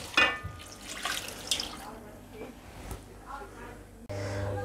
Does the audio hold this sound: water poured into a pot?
yes